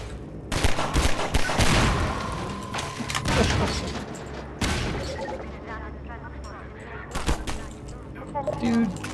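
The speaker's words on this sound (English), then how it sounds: "who's shooting me now?" Rapid bursts of enemy gunfire and booming impacts from Half-Life 2 crackle loudly through a chaotic firefight, with a voice talking over the shots.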